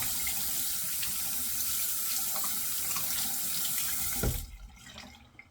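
A tap runs steadily into a sink to warm a shaving razor, a close, even rush of water that stops abruptly near the end, leaving a few faint drips and clinks.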